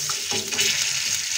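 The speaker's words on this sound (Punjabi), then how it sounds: "ਤੇਲ ਅਤੇ ਘਿਓ ਗਰਮ ਹੋ ਗਿਆ, ਹੁਣ ਇਹਦੇ ਵਿੱਚ ਇਹ ਸਾਫਤ ਮਸਾਲੇ ਪਾਵਾਂਗੇ।" Whole spices (black peppercorns, black and green cardamom, cloves, cumin) frying in hot oil and ghee, a bright continuous sizzle with faint clinks and stirring, close and alone.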